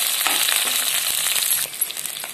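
Green chillies frying in hot oil in a pan, a bright continuous sizzle with light stirring scrapes, easing slightly toward the end.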